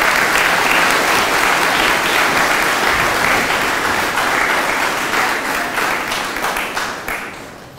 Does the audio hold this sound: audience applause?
yes